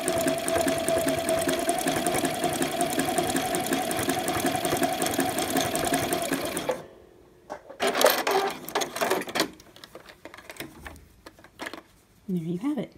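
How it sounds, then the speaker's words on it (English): A sewing machine stitches piping edge elastic with a fast, steady mechanical whir for several seconds, then stops and restarts in short bursts. "my machine likes to get stuck at the beginning here"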